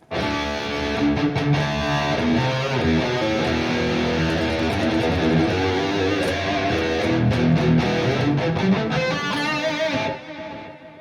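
A distorted, high-gain electric guitar through a Neural DSP Archetype Petrucci amp plugin plays a sustained lead line with bends and held notes, loud and continuous, with no voices.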